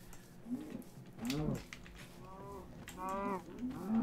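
Cow mooing in the Minecraft video game, two drawn-out, rising and falling moos close and clear over a quiet background, with no talking.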